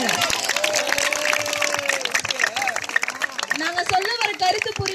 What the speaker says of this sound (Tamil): உங்க கைத்தட்டும் சத்தத்து மூலயமா சொல்லுங்க பாட்டு எப்படி இருந்துச்சுன்னு